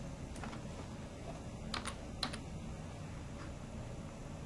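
Keys clatter on a computer keyboard while entering a column reference into Minitab statistics software, a short run of light taps with brief clusters of clicks, close and fairly quiet.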